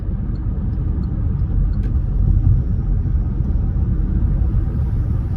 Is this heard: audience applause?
no